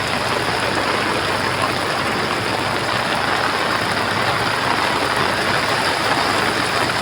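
Coromandel creek overflowing after a heavy rain shower, a loud, constant roar of rushing floodwater filling the whole scene without a break, with no voices over it.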